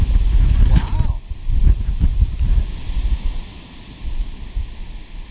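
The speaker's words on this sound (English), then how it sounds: "It's pretty breezy." Strong wind gusts blowing outdoors in the aftermath of Hurricane Matthew, a steady roaring rush with buffeting against the microphone, continuous and loud, with a person talking over it near the start.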